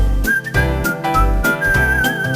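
Cheerful melodic whistling carries the tune of an Italian cartoon theme song, bright sustained notes riding over bouncy bass and percussion.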